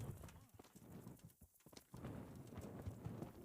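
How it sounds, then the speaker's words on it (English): Horse hooves clip-clop in the Kingdom Come video game as a quiet, steady rhythmic trot with a brief lull midway, heard alone without speech. "Horsey."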